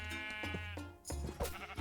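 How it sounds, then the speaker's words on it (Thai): Sheep in the Minecraft video game give a pair of loud, close, wavering bleats inside a sheep farm, back to back and alone without talk. "เย้เรามีแกะแล้วครับ นี่คือกงแกะฟาร์มแกะของเรา"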